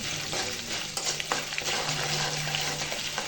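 Chana dal, urad dal, mustard seeds, cumin, green chillies and curry leaves fry together in hot oil for upma, a dense close crackle with spluttering pops and stirring.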